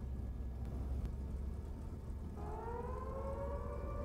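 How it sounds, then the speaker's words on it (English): An air raid siren winds up at an airfield in the DCS flight simulator with the Chain Home mod, a rising mechanical wail that swells from about midway over a low engine rumble, moderately distant. "As you can hear, the air raid siren has gone off at the airfield."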